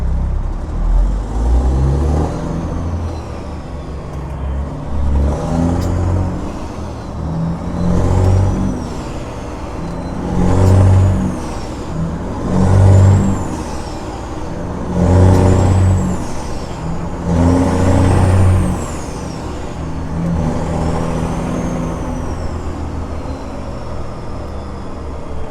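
Cars and trucks pass one after another on I-85 at night, each rising as a rushing whoosh of tires and engine, then fading away, over a steady low road rumble.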